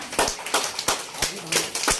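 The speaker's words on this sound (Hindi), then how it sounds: "भाई एक बार जोरदार तालियां" Clapping sounds at a wedding ceremony held in a restaurant. It comes as uneven bursts of claps from a small crowd, mixed with background chatter and voices.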